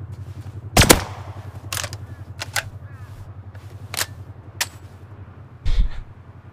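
Gunfire in the survival video game Rust: several sharp, loud, isolated shots spaced unevenly over a steady low droning background, with no talking.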